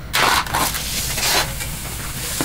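Raw 99% fat-free lean turkey hits a hot pan on the stove, a steady close sizzle with a brief louder burst at the start and scraping accents.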